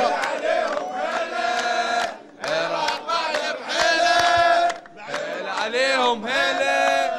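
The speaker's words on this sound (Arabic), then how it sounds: "هذا هو الجمهور الحقيقي الغاوي" Iraqi football fans in a crowd in Doha chant and cheer loudly and close by, in rhythmic group shouts broken by short pauses.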